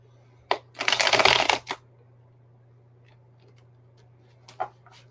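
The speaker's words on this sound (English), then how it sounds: "So I'm going to give these a shuffle." A quick riffle of playing cards being shuffled, a dense papery flutter lasting about a second, followed by a few soft taps in a quiet room.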